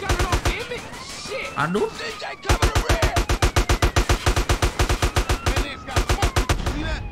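Rapid bursts of AK-47 automatic gunfire ring out in GTA San Andreas, loud and rhythmic, in two long strings with a short pause between. A player's voice exclaims briefly over the shots.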